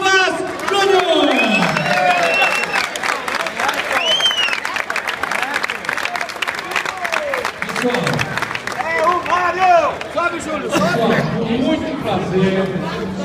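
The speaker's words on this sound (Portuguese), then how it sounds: "Eu quero pedir um aplauso ao nosso presidente, que levou democraticamente a nossa convenção." A political convention crowd in São Paulo applauds and cheers for its president, with sustained clapping, whistles and shouting voices mixed into a lively, loud roar across the whole stretch.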